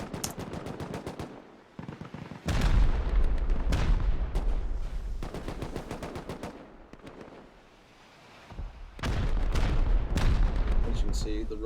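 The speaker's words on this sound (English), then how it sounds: "As you can see, the rockets pummeling." Rockets and heavy gunfire in Rust during an 8v8 tournament battle: dense bursts of rapid shots and booming blasts hit loud and close in waves, with brief lulls between barrages.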